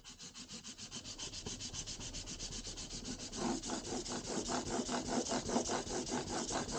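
A steady run of rhythmic back-and-forth rasping strokes from a file leveling guitar frets, close and alone, getting a little louder and fuller partway through.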